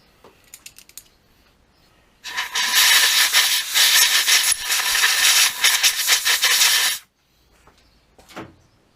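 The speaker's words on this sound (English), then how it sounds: "Let's get a bit of air in that, a bit of cleaner." Compressed air blasting cleaner into a BSA motorcycle crankcase at the oil feed hole: a loud, steady hiss runs for about five seconds, with faint clicks and handling noise before and after.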